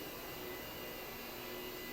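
A vacuum cleaner running on carpet during commercial carpet care, a steady loud broadband whirring drone that holds unchanged throughout with no pauses or voices.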